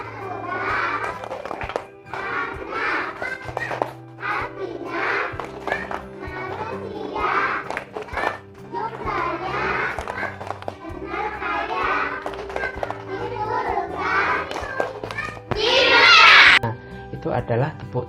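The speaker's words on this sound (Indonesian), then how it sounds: "Itu adalah tepuk tangan Islami." Schoolchildren in a second-grade Islamic religion class clap and chant an Islamic rhythmic clapping song about Surah An-Nas, steady group claps under their voices, with a louder clap burst near the end.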